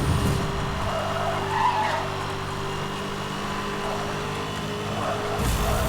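A car in Need for Speed: Hot Pursuit (2010) drifts sideways while accelerating, with a continuous tire skid over a droning engine tone that runs steadily before a brief change at the end.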